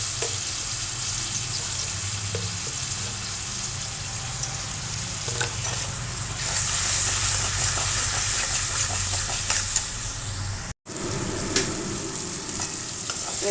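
Spices fry in oil with turmeric and salt as a constant close sizzle fills the pan, while a utensil stirs and scrapes through it. The hiss swells a little partway through and no one speaks.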